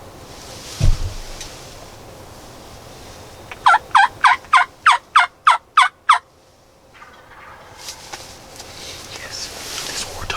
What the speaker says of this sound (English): They're gonna gobble.